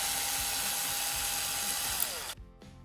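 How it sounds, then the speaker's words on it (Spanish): Parkside 4V cordless screwdriver with an eccentric adapter driving a screw, a steady close motor whine with ratcheting gear chatter that winds down and stops abruptly near the end. "Con el adaptador excéntrico me permite tener la atornilladora recta al tornillo y así no lo estropearé."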